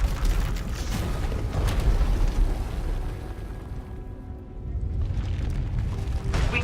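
Vaylin's runaway power erupting and tearing apart an asylum in Star Wars: The Old Republic: deep rumbling booms and grinding, creaking destruction, easing briefly before swelling again, with no voices.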